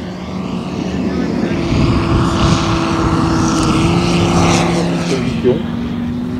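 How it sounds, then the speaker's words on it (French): RC model airplane at a flying display in Senlis, its propeller giving a steady droning buzz that swells and fades slightly as it passes, with an announcer talking over it. "Et l'avion à vitesse constante."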